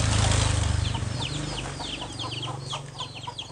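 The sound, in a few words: baby chickens clucking in a Vietnamese village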